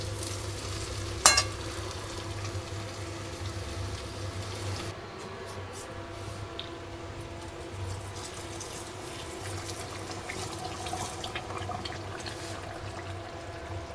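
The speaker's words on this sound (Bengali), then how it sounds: "এবার গরম জল দিয়ে দেবো।" Hot water is poured into a pan of chicken tehari, and the pan sizzles and bubbles steadily. A sharp metallic clink comes near the start, then a softer, continuous simmer with no talking.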